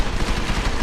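Gunfire in the video game Deus Ex: Mankind Divided, a loud, dense burst of shooting filling the whole short moment with harsh, continuous noise and no talk.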